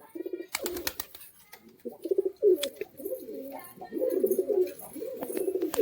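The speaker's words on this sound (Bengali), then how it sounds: "আর এই হচ্ছে পায়রার ঘর," Pigeons coo in a pigeon house, their low, throaty calls repeating in overlapping bursts at close range, with faint scattered chirps above.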